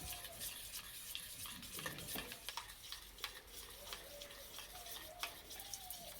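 Mustard paste for a rohu fish curry being stirred and mixed, a steady wet scraping and stirring with light clinks against the bowl, continuous and fairly quiet throughout with no talking.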